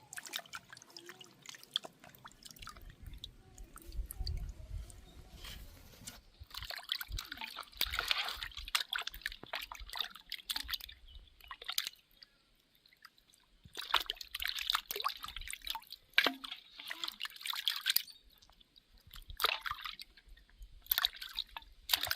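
Cut country chicken meat is washed with water, giving close, irregular bursts of splashing, dripping and wet squishing, with quiet pauses between handfuls.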